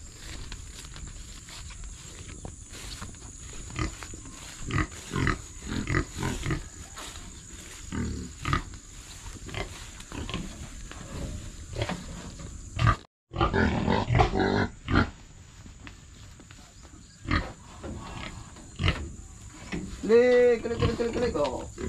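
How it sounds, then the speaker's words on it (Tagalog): Farm pigs grunting and squealing before feeding, with a loud high squeal near the end, along with footsteps and close human voices throughout. "Papakainin na natin ang ating baboy at talagang"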